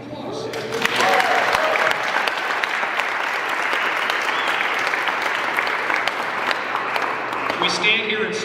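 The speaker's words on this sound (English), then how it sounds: "Let's give them applause." Audience applause at a political gathering in Montana, loud and sustained clapping from a large crowd that fills the whole stretch, with a bit of cheering mixed in.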